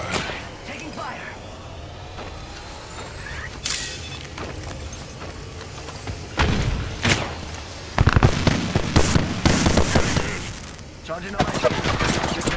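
Gunfire crackles through an Apex Legends match: bursts of automatic fire and sharp single shots that grow denser and louder toward the end, mixed with game effects and a voice speaking.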